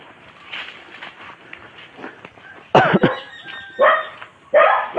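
Dogs bark in several loud, close bursts over quieter background noise, with a faint rustle before the barking starts, in Pangasinan, Philippines.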